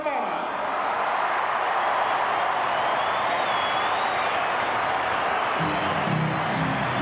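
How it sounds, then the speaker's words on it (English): A stadium crowd at the 1995 Coca-Cola AFL State of Origin match, Victoria versus South Australia, roars and applauds steadily as Victoria takes a lap of honour, a dense, continuous wash of cheering that stays loud from start to end. "Let's applaud Victoria as they do a lap of honour"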